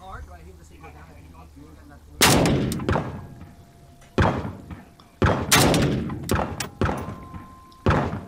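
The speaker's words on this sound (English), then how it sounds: "I missed my first few shots because the rifle I'm shooting is not perfectly zeroed" Sharp rifle shots ring out one after another at an outdoor range, each followed by a metallic clang from steel targets downrange, with irregular spacing across the stretch and quiet gaps between them.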